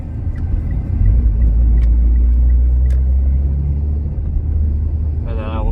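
Mitsubishi Lancer Evo X driving through a residential subdivision, a steady low engine and road rumble heard from inside the cabin, continuous throughout with a brief whistling squeal near the end.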